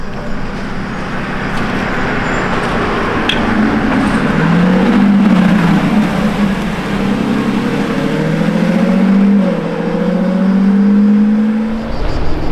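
A black Lamborghini Revuelto hybrid drives past on the road, a loud, close engine drone that rises and holds through the pass with traffic noise around it, then fades off at the end.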